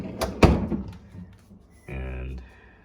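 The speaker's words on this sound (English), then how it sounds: "I do love this neat little drawer here for my refreshments." Refreshment drawer of a Frigidaire 22.1 cu ft GRMG2272CF refrigerator: a sharp knock near the start, followed a moment later by a short, steady sliding rumble of about half a second.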